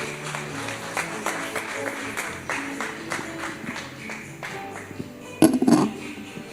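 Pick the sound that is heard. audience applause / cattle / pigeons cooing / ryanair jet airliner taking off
audience applause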